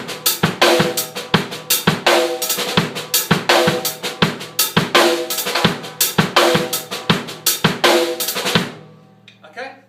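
Drum kit playing a linear beat with doubled strokes on the e and a of beat four, crisp evenly spaced hits in a repeating pattern that ends with a short ringing decay.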